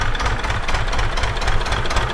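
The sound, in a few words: tractor engine sowing wheat in field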